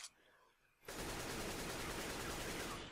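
An automatic gun in CS:GO on de_nuke sprays a rapid continuous burst through a wall, loud and dense, after a moment of quiet.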